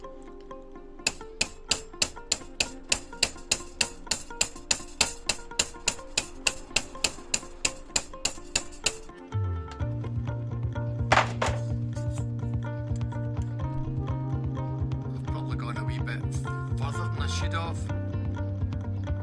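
Small hammer tapping a Steinberger GR4 R Trem tremolo part straight, about twenty quick metallic taps in a steady rhythm, then a sustained tonal ringing with a voice speaking over it.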